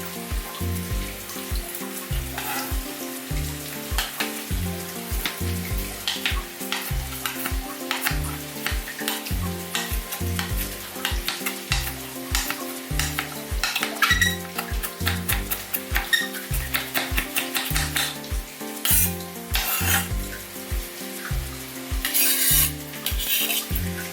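Chicken thighs and legs sizzle and fry in a pan, with steady crackling and repeated stirring and turning scrapes in a busy rhythmic pattern, close and moderately loud throughout.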